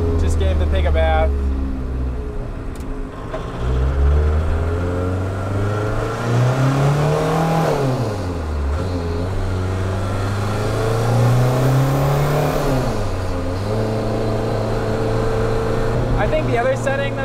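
Turbocharged car engine heard from inside the cabin, droning loud and steady as it climbs through two long rising pulls with gear-change dips between them.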